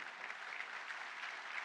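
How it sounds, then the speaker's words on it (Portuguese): Steady applause from an audience at the swearing-in ceremony of Brazil's Advocate General, offered in honour of the Federal Court of Accounts, a dense, even clapping texture that holds for under two seconds with no voices. "peço uma salva de palmas ao nosso Tribunal de Contas da União"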